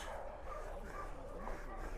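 Several puppies at a dog kennel near Skagway, Alaska bark and yip in a steady, busy chorus close by, with no gaps in the noise.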